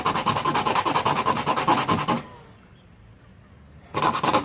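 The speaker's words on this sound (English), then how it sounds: "Take the sandpaper." Sandpaper rubs back and forth on a bottle in quick, even strokes, close and loud, stopping for about two seconds before the rhythmic scratching resumes.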